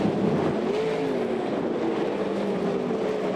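Sprint cars race around the dirt oval at Charlton Raceway during the Queensland Title A-Main, a continuous distant engine roar with shifting whining tones as the pack circles, steady and unbroken with no voices.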